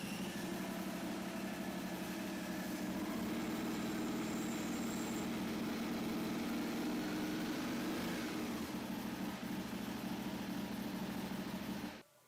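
A Ducati 848/1098/1198 superbike engine idles with a steady, close, throaty rumble for about twelve seconds before it is switched off and goes abruptly silent.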